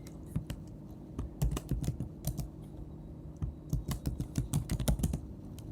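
Fingers type a file name on a computer keyboard, with crisp, close keystrokes in uneven clusters over a low steady room hum, and brief pauses between runs of taps.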